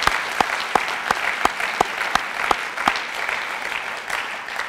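Applause from an audience at a senior advocate Hall of Fame induction ceremony held in a high school, a steady wash of clapping with a few sharp, close claps standing out in a regular beat.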